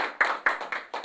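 A few sharp, close hand claps land in an even rhythm during an advisory meeting on Baekje court music, brief and isolated in a quiet room.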